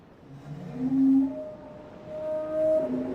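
A whale call from the video game Riven, low drawn-out moaning tones that rise and swell in two long, fairly loud phrases with no talking.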